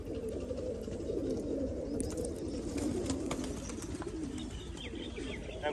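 Pet pigeons cooing steadily in a village at midday, a continuous low murmur of soft coos close by with faint chirps and rustles in the background.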